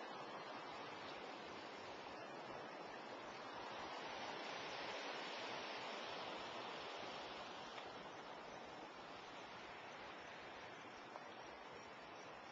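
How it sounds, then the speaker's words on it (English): Swift water rushes through an irrigation head ditch feeding hay fields in the western countryside, a continuous, even roar of turbulent flow that stays steady and close without pause. "This is the swift water portion of our head ditch."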